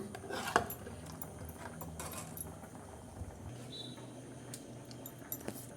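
Faint clinks and scrapes of a spoon against a pot of seege leaf sambar, a few sparse strokes over quiet background hum.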